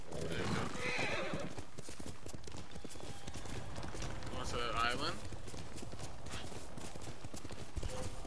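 In the video game Ghost of Tsushima, a horse gallops with rapid clip-clop hoofbeats and lets out a loud whinny partway through, while someone talks throughout.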